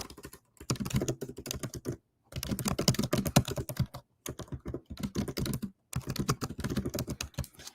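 Close, rapid typing on a computer keyboard comes in several bursts of clattering keystrokes separated by brief silent pauses, with no speech.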